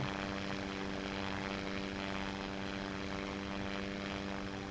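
A propeller airplane engine in the SimplePlanes VR flight game gives a steady, loud drone with a constant low tonal hum that holds without change, and no talk is heard.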